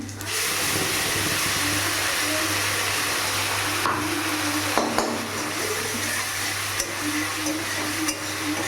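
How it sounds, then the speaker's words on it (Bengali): Steady, loud sizzling of onions fried reddish-brown in a hot pan as spices, turmeric and salt are added, with a few scraping stirs and light clinks along the way. "পেঁয়াজটা লাল লাল ভাজা হয়ে গেছে এবার এখানে মশলাগুলো দিয়ে দিই"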